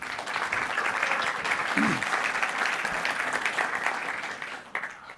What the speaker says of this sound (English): Round of applause for tax time bonds.